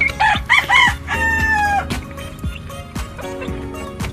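Young chicks peep in a farm pen before a vitamin powder drink is mixed for them: a run of repeated, high, bright chirping calls that rise and fall, close by and fairly loud, with clucking fowl mixed in.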